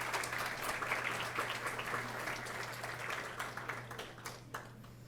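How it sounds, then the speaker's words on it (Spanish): A conference audience applauding to welcome a panelist at a discussion on autism and inclusion, a dense, even round of clapping that thins toward the end under a steady low hum. "un aplauso también para él"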